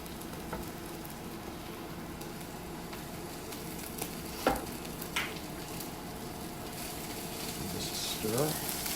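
Slivered scallions and cabbage sizzle and fry in a pan, a soft steady crackle with a few scraping stirs of a utensil.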